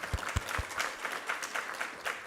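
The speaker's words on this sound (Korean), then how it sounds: "우리 하나님께 감사와 영광의 박수 올려드리겠습니다." A church congregation applauds during a Sunday sermon, a faint, steady wash of many hands clapping with a few louder thumps at the start.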